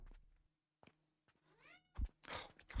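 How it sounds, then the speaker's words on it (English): A little kitty meowing close by: one clear rising-and-falling meow stands out amid quiet pauses, followed by a few soft thumps and knocks nearby. "my God, you're just making so much noise, little kitty"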